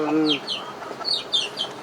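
Laying hens on a poultry farm cluck and squawk in short rising calls, several birds close by in quick succession over a low farmyard background.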